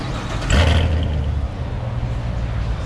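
A 2019 Corvette C7 Grand Sport idles with a Borla X-pipe and secondary cat delete, the stock mufflers still fitted, giving a steady, close, fairly subdued low rumble with a brief swell near the start.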